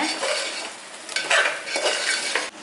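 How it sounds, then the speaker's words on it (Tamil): Soya chunks stirred into a sizzling onion tomato masala, scraping spoon strokes over a loud steady frying hiss, close up and without speech. "சோயாபீன்ஸ் உள்ள சேர்த்துக்கோங்க சேர்த்துட்டு நல்லா கலந்து விட்டுக்கோங்க"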